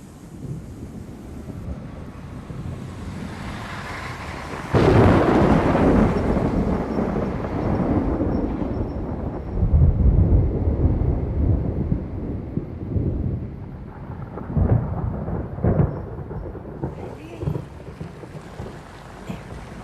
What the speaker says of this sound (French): La tempête se rapproche.